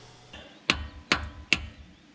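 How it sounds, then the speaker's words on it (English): Three sharp metallic hammer strikes on the stuck valves of a 1977 Dodge Monaco's 360 engine, parked 32 years, evenly spaced and fairly close, each with a brief ringing decay over a quiet background. "Let's whack some valves with a hammer"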